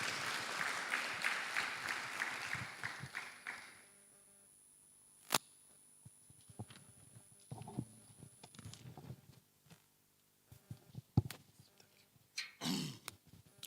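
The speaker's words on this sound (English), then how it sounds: "let's clap for Peter as he comes." Conference audience at a national SDGs youth pre-conference clapping for a guest walking up, a brief burst of applause that fades out within a few seconds, followed by quiet room noise, scattered knocks and shuffling.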